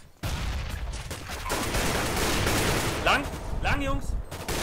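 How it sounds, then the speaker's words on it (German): Video game gunfire crackles in dense bursts throughout, loud and continuous, with excited players shouting over the shooting. "Gunshot, Gunshot!"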